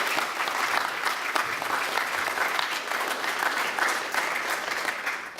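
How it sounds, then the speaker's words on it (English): A school assembly audience applauds for a guest speaker at a DUI awareness event, a steady, fairly distant wash of clapping from a large crowd throughout. "let's give a round of applause to Miss Casey Atmer for coming today"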